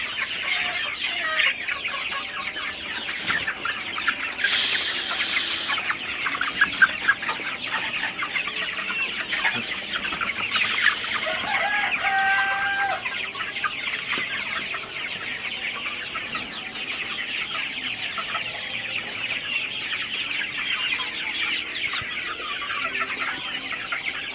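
A flock of 52-day-old Sonali super hybrid chickens clucks continuously on a poultry farm in the evening, a dense chatter of many birds with a few sharper squawks.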